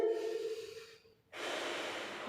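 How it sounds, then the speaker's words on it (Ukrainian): Children draw and push strong, forceful breaths through the nose during a kindergarten physical education class, a long exhale, a short pause, then another heavy nasal breath, fairly quiet and close. "Дихаємо носиком сильно сильно."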